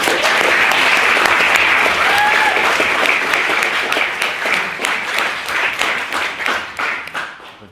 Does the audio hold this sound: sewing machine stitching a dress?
no